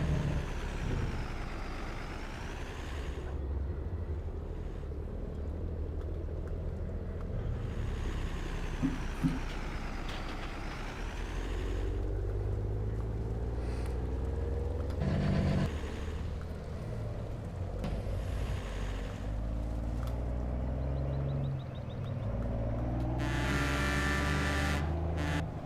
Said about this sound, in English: The truck sounds good.